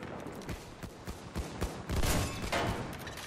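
Gunfire in the video game Battlefield 1, a rapid scatter of shots and bursts with a louder heavy blast near the end, dense and continuous with no talk.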